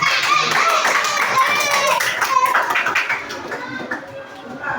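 Students in a classroom clap for a quiz team, a dense patter of hands mixed with overlapping children's voices and chatter throughout.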